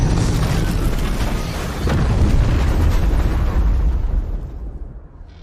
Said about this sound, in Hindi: गोल्डन हॉर्न खाड़ी में एक छोटे टैंक का विस्फोट ट्रांस अटलांटिक टैंकर में हुआ है।